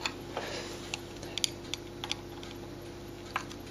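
A small 6BA spanner tightens a nut on a model locomotive, giving faint, sparse metallic ticks and light clicks at irregular intervals in a quiet room.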